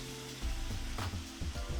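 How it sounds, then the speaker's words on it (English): Seasoned chicken pieces sizzle and crackle in hot oil in a pan on the stove, a steady close frying hiss that swells as more pieces are added. "you hear that sizzle"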